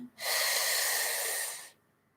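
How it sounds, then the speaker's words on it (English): A single long, deep inhale through the nose during a guided meditation, a close, steady airy rush lasting about a second and a half, then quiet. "let's take a nice deep breath"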